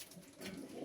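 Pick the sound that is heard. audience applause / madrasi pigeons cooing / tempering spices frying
madrasi pigeons cooing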